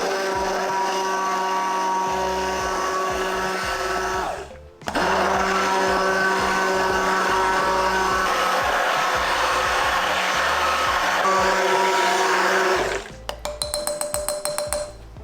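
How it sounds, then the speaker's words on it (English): Stick blender whirring steadily as it mixes lye water and oils into cold process soap batter, a loud continuous motor drone with a brief pause, then clinking taps of the blender head against the container at the end. "we're going to stick blend everything together until it's just emulsified"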